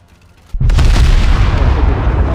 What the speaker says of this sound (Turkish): Su altı bombadan atmaya başladı.